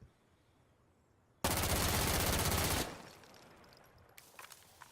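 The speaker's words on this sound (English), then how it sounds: "I'm just going to go ahead and take a couple shots here. This is a stock MP7." A stock MP7 firing a rapid full-auto burst in Insurgency: Sandstorm, a loud continuous rattle of about a second and a half that cuts off abruptly, followed by a lingering tail and a few faint clicks.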